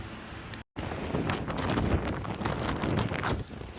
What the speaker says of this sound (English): Hopefully the wind isn't too bad.